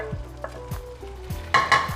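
Onion stirred into sizzling chicken chilli in a pan, with a steady frying hiss and several scraping stir strokes close by, no talk.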